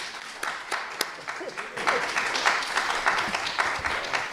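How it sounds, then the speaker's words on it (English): Applause from a candidate forum audience for the Washington Commissioner of Public Lands candidates, starting with a few scattered claps and building into moderate, continuous clapping from a smaller crowd. "Let's give a round of applause for our candidates here tonight."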